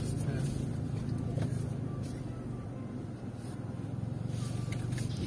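Car slowly pulling into a parking area by a reservoir park, a low steady engine hum with faint rattles and ambient outdoor noise, no clear talk.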